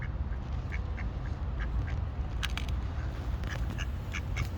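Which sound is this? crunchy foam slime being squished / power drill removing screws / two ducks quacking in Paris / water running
two ducks quacking in Paris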